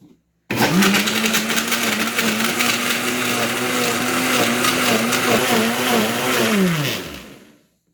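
A blender whirs loudly and steadily for several seconds while mixing eggs and flour into a batter for a sausage pie, its motor pitch wavering slightly before winding down at the end.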